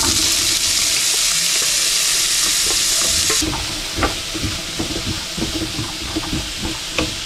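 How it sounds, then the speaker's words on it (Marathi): Chopped green chillies sizzle as they drop into hot oil for a fasting-day sweet potato dish, a loud steady hiss at first that settles into quieter frying crackle with stirring clicks, no voices. "तेल चांगलं तापलेलं आहे. तर आपण ज्या मिरच्या कापलेल्या आहेत ना ते आपण टाकूया."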